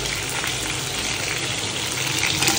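Meat, browning until reddish with onions, frying in a pan: a steady, loud, dense sizzle and crackle that runs continuously without a break.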